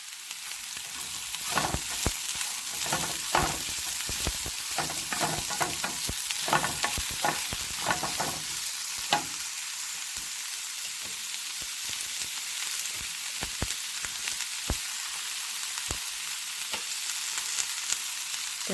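Sliced onions sauté in a hot pan for butter chicken pizza, a continuous soft sizzle broken by repeated scraping and stirring strokes early on, then settling into a steady frying hiss.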